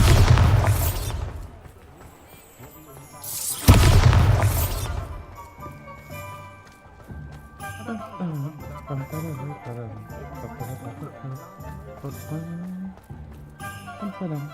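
Two loud, blasting explosions from the Bombarda spell in a video game, separated by a few seconds, followed by quieter game music and effects.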